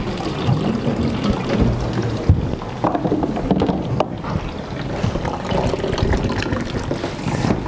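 Rainwater pours through a toilet overflow, a steady broad rush of flowing and splashing water that runs loud and continuous throughout with no talk.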